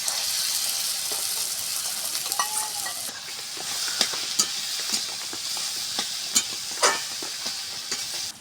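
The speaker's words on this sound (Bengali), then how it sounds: "এবারে ফাটানো ডিমটা দিয়ে দেবো" A cracked egg goes into hot oil in a pan with potato and turmeric, sizzling steadily throughout with a bright, even hiss and a few sharp spatters and pops; no one speaks.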